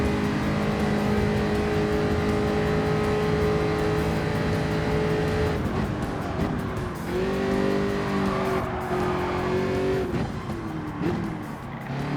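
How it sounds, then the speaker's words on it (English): A racing car engine in the Gran Turismo 7 video game drones steadily, then tires squeal and whine through a bend, the pitch sliding and wavering for several seconds. "You hear it screeching as it goes around the bend as well."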